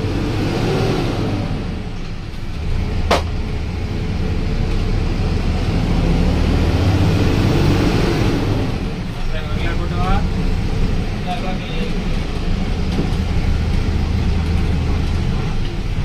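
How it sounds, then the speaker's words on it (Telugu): Long-distance buses, including Mythri sleeper coaches bound for Pune and Mumbai, pull in and idle at a roadside dhaba in Zaheerabad during a night dinner break. A steady, loud engine rumble and traffic drone runs throughout, with voices mixed in. "వెనకాల ఇంకా బస్సులు వస్తున్నాయి, మన గోటూర్ బస్సులు అన్నీ వస్తున్నాయి అన్నమాట."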